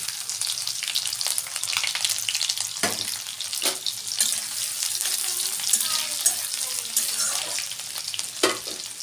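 Chopped chilli and dried garlic fried in oil after cumin: a continuous loud crackling sizzle, broken by several sharp pops and spatters and a few scraping stirs.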